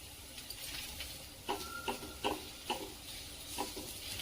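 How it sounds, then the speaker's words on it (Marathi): Two medium onions dry-roasting without oil in a pan over a gas flame, giving a soft steady hiss with several light scraping and stirring taps spaced through it. "गॅसवर प्रथम कांदा भाजून घेऊया हे दोन मध्यम आकाराचे कांदे घेतलेले ते प्रथम भाजून घेऊया"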